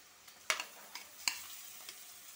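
Garlic paste drops into hot oil with cinnamon, cardamom and cloves for a Bangladeshi deshi chicken curry, giving a faint crackling sizzle with a couple of sharper spits as it lands, quiet and without talk.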